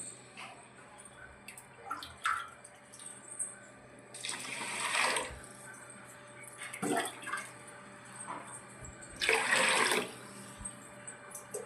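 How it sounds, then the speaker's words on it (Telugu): Rice being washed in water, with intermittent bursts of swishing and pouring water at moderate loudness separated by quieter pauses. "బియ్యం కడిగానండి."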